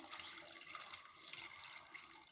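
Water is poured into a pot holding scraped, chopped and washed colocasia: a steady, close splashing rush that runs unbroken for about two seconds, with no voices.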